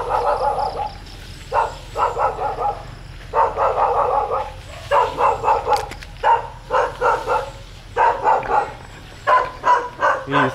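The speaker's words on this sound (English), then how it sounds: "This white dog don't like me." A white dog barks repeatedly in quick bursts of sharp yaps, loud and close, continuing in clusters throughout with brief pauses.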